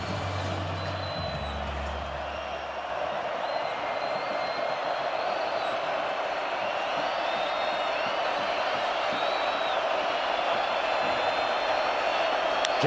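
Big college football stadium crowd at Colorado versus Kansas State, a steady roaring wash of cheering and shouting that swells slightly after the first few seconds and holds loud throughout.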